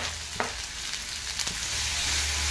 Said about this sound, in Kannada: ಈರುಳ್ಳಿ ಮತ್ತು ಟೊಮ್ಯಾಟೊ ಎರಡು ನೀಟಾಗಿ ಸಾಫ್ಟ್ ಆಗೋವರೆಗೂ ನಾವು ಇದನ್ನು ಫ್ರೈ ಮಾಡ್ಕೋಬೇಕು